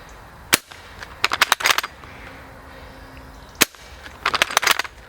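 Sharp shots from an airsoft Mosin Nagant M44 replica by BO Manufacture, fired in two quick irregular bursts of clicking cracks separated by a pause, close and crisp over quiet background.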